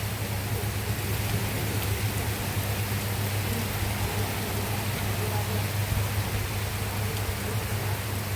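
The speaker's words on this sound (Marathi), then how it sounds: "पाऊस चांगलाच लागलाय जोरात" Heavy rain falls in a steady, unbroken hiss that stays loud and even throughout, with no distinct drops or pauses.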